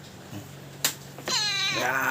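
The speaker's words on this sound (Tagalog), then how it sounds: "Bisita kong pusa." A cat meows clearly and fairly close by, one long drawn-out meow after a short faint one, with a sharp click in between.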